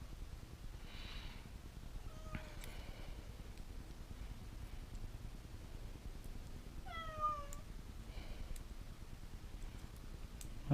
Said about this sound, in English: Cat is not happy that I am in here without her.